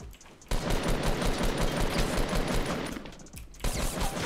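Sustained automatic gunfire in a Fortnite match, a dense, continuous rattle of shots that keeps going almost without pause, then briefly dips before resuming.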